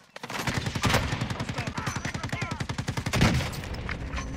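Rapid sustained automatic gunfire from Call of Duty: Warzone, a steady rattling burst of evenly spaced shots with a louder crack near the end, heard at moderate distance over game ambience.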